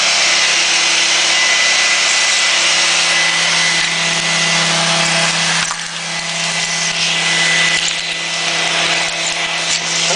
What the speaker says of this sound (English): That's why the fuse was taken out of the hand dryer.